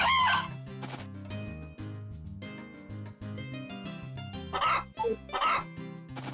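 Chickens in the farming video game Harvest Moon: A Wonderful Life let out a few short, scattered clucks over steady background game music.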